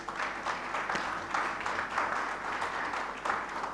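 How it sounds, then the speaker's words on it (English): Delegates at a ministerial finance roundtable applaud, a moderate, steady clapping from a room of people heard at some distance, continuous for several seconds. "Can we give the whole floor and those that have exited a big round of applause?"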